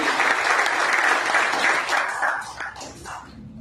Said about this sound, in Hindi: आप एक बार जरूर क्लैपिंग कीजिएगा